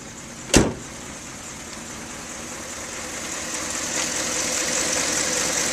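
A 1962 Ford Galaxie 500 engine idles very quietly just after a short sharp click near the start, settling into a low, steady, soft hum with a faint high hiss and no talking.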